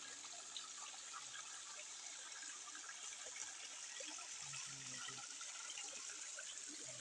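Stream water flows steadily at a village creek, a soft continuous wash and trickle heard from nearby, with a faint voice in the background.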